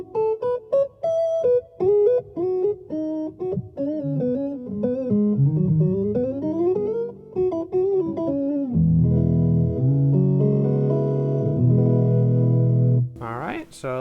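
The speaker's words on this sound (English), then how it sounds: "All right, so that's a sine wave." A BOSS SY300 guitar synth plays a soft, mild sine-wave tone, first as short plucked notes and sliding pitches, then as longer sustained notes with an effected, slightly chorused shimmer, close and fairly loud.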